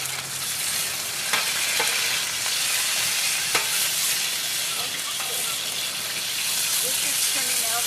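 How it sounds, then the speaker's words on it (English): Meat searing for paella in a hot pan gives a loud, continuous sizzle and crackle with occasional pops and stirring scrapes, close up and steady throughout, with no voices over it. "Now this is getting seared."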